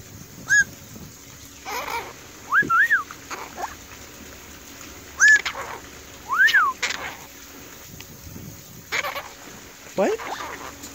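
A pet bird by a pool gives repeated short chirps and whistled calls in bursts, close and fairly loud, between quieter stretches with some background noise.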